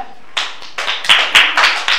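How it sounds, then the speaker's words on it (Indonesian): A small group clapping for classmates in group 2 during a micro-teaching class session, a handful of sharp, close claps in a loose, uneven rhythm over two seconds. "Tepuk tangan buat kelompok 2."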